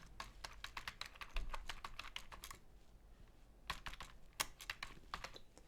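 Fingers type on a computer keyboard while entering a comment in an Excel spreadsheet, quick clusters of close, crisp key clicks separated by a brief pause, with no talking.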